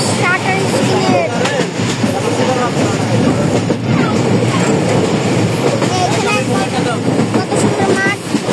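Train running fast along open country, a loud continuous rush of wheels and rattling carriage with rhythmic clatter, screeching metallic squeals, and voices chatting faintly underneath throughout.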